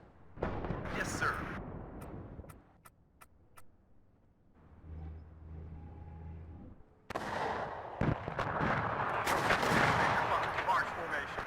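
Heavy gunfire and artillery from a Cold War battle in the real-time strategy game WARNO: dense bursts of shots and booms, a quieter stretch with a low rumble and short clicks, then loud continuous firing returns.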